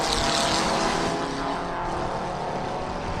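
Formula Vee race cars powered by heavily tuned Volkswagen engines roar past at a 2012 festival of speed, a loud sustained engine drone from the start that eases only slightly toward the end, with no voices.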